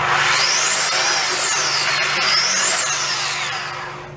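Sanding the tops of wooden dowels on a 1930s Slingerland Artists Model snare drum with 120-grit paper on a power tool: a steady, loud whining grind that holds for about four seconds with a slight rise and fall in pitch.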